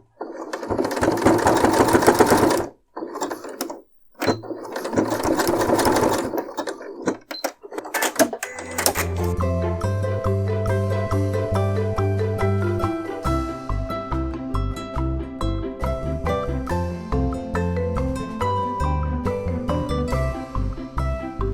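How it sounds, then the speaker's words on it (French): A sewing machine stitches a zigzag seam on a fabric barrier mask, starting in short bursts with pauses before settling into a fast, steady rhythmic chatter close up. "on va faire un petit point zigzag"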